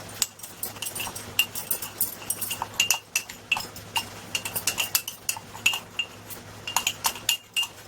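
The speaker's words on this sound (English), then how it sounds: "so I'm going to mix all these things together." Utensil clinking and scraping in a bowl while potato and rice flour are mixed together for dumplings, a quick irregular run of close metallic taps and rattles throughout.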